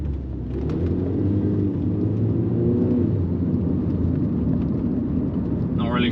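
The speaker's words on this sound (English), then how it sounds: "I felt like a bit of wheel spin." A Mini F56 JCW pulls away hard with a slight wheel spin, its engine giving a loud, steady low rumble and rising tone throughout, with no talk over it.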